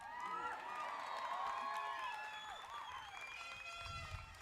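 At the 2022 Hana School graduation ceremony, an audience cheers, whoops and shouts in a lively overlapping chorus of many voices, with scattered clapping and a few thumps toward the end.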